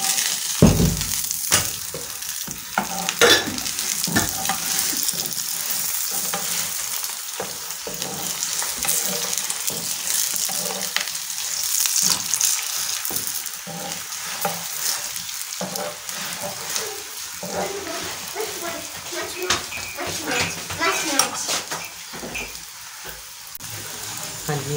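A paratha fries in butter and pure desi ghee with a loud, continuous close sizzle and crackle, broken now and then by spatula scrapes, with a voice talking over it at times.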